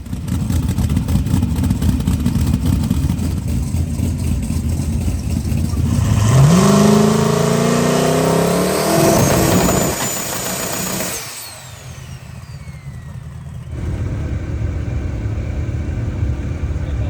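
Race cars rev loudly at a drag racing event, with one engine's pitch climbing sharply under a steady background roar, then a lull and a high whine before the din returns.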